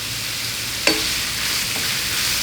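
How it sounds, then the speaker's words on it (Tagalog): Hotdog and onion sautéing in a pan with banana ketchup, a steady sizzle with a brief scrape of stirring, close and alone without talk. "ihalo lang yung ketchup dito sa ginisang hotdog at sibuyas"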